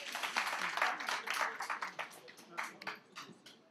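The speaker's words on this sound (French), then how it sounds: "je souhaiterais qu'on l'applaudisse, s'il vous plaît" Audience applause at a Benelux supporters' club thank-you gathering, a lively burst of clapping that gradually thins out, fairly faint and with some voices mixed in.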